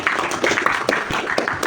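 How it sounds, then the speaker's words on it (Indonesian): A classroom of students gives a short round of applause to a group, with scattered, uneven hand claps popping out individually rather than blending into a dense roar. "Berikan tepuk tangan kepada kelompok Dafa"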